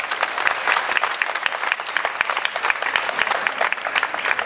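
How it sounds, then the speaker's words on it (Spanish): People in the municipal offices of a political party in Acapulco break into applause, a close, crisp burst of many hands clapping in a fast, uneven patter that holds steady throughout. "Por favor, un aplauso."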